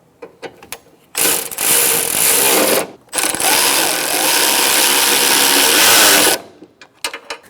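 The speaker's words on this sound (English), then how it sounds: "Once you have all 4 bolts lined up and started, you can tighten them down." A ratchet tightens the cooling fan assembly bolts on a 2012-2018 Ford Focus in two long, loud, continuous whirring runs, briefly broken near the middle, with a few softer clicks before and after.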